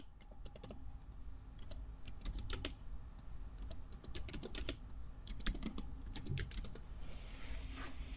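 Computer keyboard typing heading text into a PowerPoint slide, a quick close run of soft key clicks in uneven bursts over a faint background hum, with no speech.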